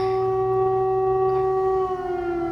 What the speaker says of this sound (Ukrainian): Отак от повітряні тривоги, тривоги, тривоги.